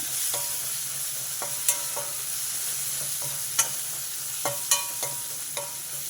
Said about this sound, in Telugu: అల్లం వెల్లుల్లి పేస్ట్ వేసి దీన్ని కలుపుకోవాలి బాగా